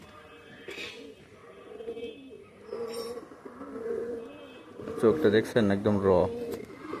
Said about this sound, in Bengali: খুব বিগ সাইজের কবুতর, অনেক বড় সাইজের কবুতর।